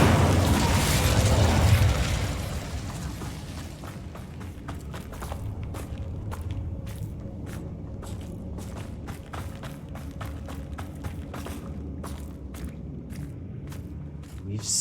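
An Incendio fire spell cast in the wizarding game Hogwarts Legacy erupts with a loud whooshing blast that dies down, followed by a long stretch of quieter scattered pops and crackles.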